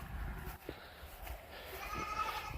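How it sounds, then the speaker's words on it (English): Free-grazing goats bleat outdoors on a farm, a wavering bleat rising over a breezy background with a few soft thumps. "Free grazing our goats, letting them do some of the mowing."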